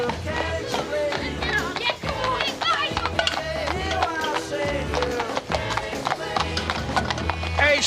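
Hooves clip-clop in a steady, repeating rhythm, fairly close, mixed with tapping and other busy sounds.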